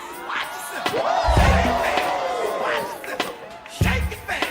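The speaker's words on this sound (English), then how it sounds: "Most believable crowd cheering for a dancer since Spider-Man 3." A film crowd cheers and whoops for a dancer at a dance-off, a lively mix of shouts and voices rising and falling with a couple of low thumps, fairly close and busy throughout.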